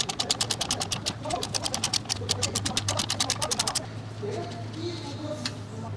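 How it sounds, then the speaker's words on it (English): A ratcheting wrench head swung to loosen a bolt, a quick run of rapid, evenly spaced clicks for several seconds that then stops, close by over a low background hum. "Rotate the ratcheting head."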